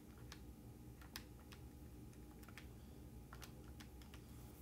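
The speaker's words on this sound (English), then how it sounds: "if I write this all or type this all into my calculator" Fingers tap number keys on a calculator in a quick, irregular run of light clicks, faint and close in an otherwise quiet room.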